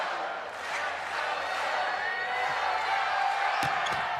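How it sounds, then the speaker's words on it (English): Crowd at a men's college volleyball match between Hawaii and UC Santa Barbara, a sustained roar of cheering and whooping that builds steadily, with a commentator talking over it and a few sharp claps near the end. "now the crowd trying to ramp up the volume again"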